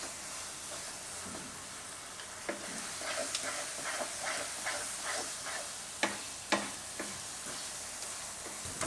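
Boiled wheat grains stirred in a pan over a gas flame, a steady dry sizzle with a run of scraping spoon strokes and a few sharper knocks against the pan, close by and with no talking.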